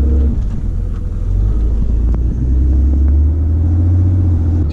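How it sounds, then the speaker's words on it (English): A Ram pickup with a Cummins diesel engine drones in a steady, loud, low rumble while driving, the engine note holding fairly even with slight shifts in load. "I'm taking it upon myself to drive a little bit farther here today, just so I can make sure the engine warms up"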